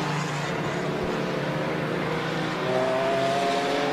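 Race cars circle a track during a competition, engines droning steadily at mid distance, with a higher whine building as one car closes in near the end.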